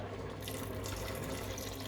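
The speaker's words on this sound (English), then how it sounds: "So we're just gonna add this water so we can have some sauce." Water is poured into a pan of rice as a sauce base, a continuous splashing, hissing stream heard close and steady throughout, with no talking.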